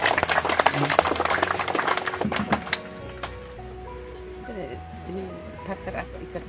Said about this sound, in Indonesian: sekali lagi kita berikan tepukan yang meriah.